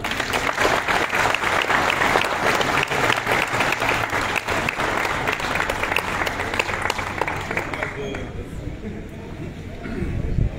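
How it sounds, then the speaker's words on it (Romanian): Audience applauding at a ceremony honoring war veterans, hosted by a city hall, as a dense, steady clapping that fills the room for about eight seconds before thinning out, with a few voices mixed in. "Să-l aplaudăm!"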